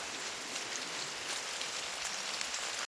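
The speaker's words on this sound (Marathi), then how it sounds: "सतत पाऊस चालू आहे, येता जाता जोराचा पाऊस येता" Heavy monsoon rain pours steadily onto surfaces on a trek at Rangana Fort, a dense, continuous hiss of drops at moderate level with no voices.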